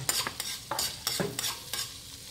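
Garlic sautés in a pan for a mud crab dish: a steady, close sizzle with rhythmic scraping strokes of a stirring utensil repeating about every third of a second.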